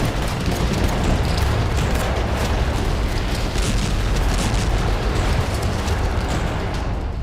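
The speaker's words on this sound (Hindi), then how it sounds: "उत्तरी इजराइल में हिजबुल्लाह की तरफ से कई रॉकेट दागे गए" Hezbollah rockets strike northern Israel with a loud, dense, continuous roaring rumble of blasts that runs unbroken throughout, without any voices.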